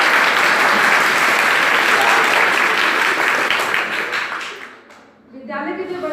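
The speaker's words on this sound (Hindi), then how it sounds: "अब 2 मिनट प्लीज आप ताली बजा दीजिए।" A school event audience applauds loudly and densely for several seconds, then the clapping fades away and a voice begins speaking near the end.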